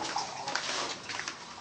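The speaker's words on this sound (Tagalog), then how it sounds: "Tubig." Water runs steadily into a bathtub or basin, a close, dense hiss with light splashing and no talk over it.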